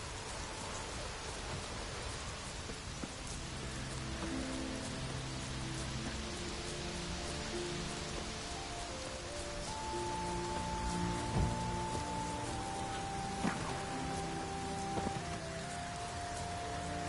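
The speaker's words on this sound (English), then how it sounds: "Oh, raining again." Steady rain patters across the whole stretch, a dense hiss of drops with faint tonal hums beneath, no voices, even and continuous.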